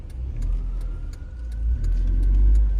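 Cars passing on a narrow West Philadelphia city street, a low engine rumble that swells toward the end as a vehicle draws near, heard from inside a moving car.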